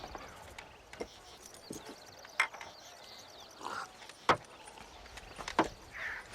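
Sparse clip-clop hoofbeats of a horse in Red Dead Redemption, a few sharp clops spread out over a low background hum, fairly close.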